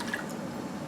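Water poured into a bowl of sugar and egg whites while making frosting for a chocolate potato cake, a short, quiet liquid splash and drip heard alone.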